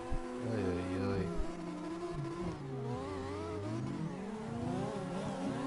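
Rotary engine of a Mazda RX-7 in the CarX Drift Racing game, revving up and down with rising and falling tones, layered with other car engines in a drift race, moderately loud and continuous.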